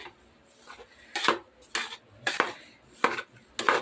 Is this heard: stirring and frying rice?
yes